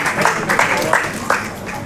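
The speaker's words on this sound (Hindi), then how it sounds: "तो तालियां जोरदार बजनी चाहिए." Audience applause at an award ceremony felicitating honorees, brief continuous clapping with a few sharper accents, fairly loud and close.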